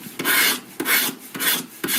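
A tool carves into the real metal body of a smartphone in four slow, regular strokes, each a close, loud, gritty rasp with a short pause and a light knock between strokes.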